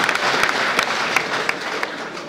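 An audience applauds during a speaker's lecture, with dense steady clapping and a few sharper claps standing out, continuous throughout and slowly tapering toward the end.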